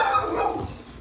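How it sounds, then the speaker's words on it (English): A dog barks indoors in a brief, moderately loud burst that trails off quickly. "And my dog's barking."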